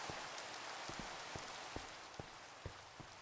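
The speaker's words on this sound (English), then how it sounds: "you can hear the rain" Rain falling outdoors, a steady soft hiss of drops on surfaces with a few sharper taps scattered through it, fairly quiet and without voices.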